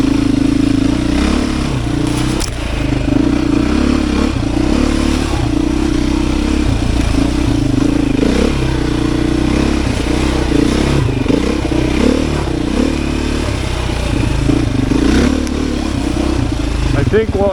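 Beta 500 RS dirt bike ridden along a tight, muddy trail, its engine loud and close, throttle surging and easing with clatter and scraping over the terrain throughout.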